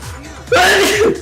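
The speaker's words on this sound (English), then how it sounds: "They do not sneeze like a kitten." A person sneezes once, a sudden loud burst after a brief quiet lead-in, close to the microphone with no talk over it.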